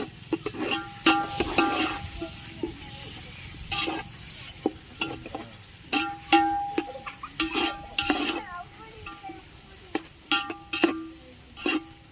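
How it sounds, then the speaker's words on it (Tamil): Onions and green chillies sizzle in hot oil for biryani while a spoon stirs them, with frequent sharp clacks and scrapes against the pan over a soft, steady frying hiss. "பெரிய வெங்காயமும் பச்சை மிளகாயும் சேர்த்து நல்லா வதக்கிக்கலாம்"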